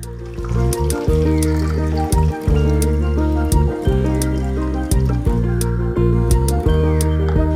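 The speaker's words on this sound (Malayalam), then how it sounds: "ഇനി നമുക്ക് ഇതിലേക്ക് ആവശ്യം ചെയ്യുക വെള്ളം." Water poured steadily into a pot of Kerala onion sambar, a loud, close, continuous gurgling fill with small splashy breaks, heard alone without talk.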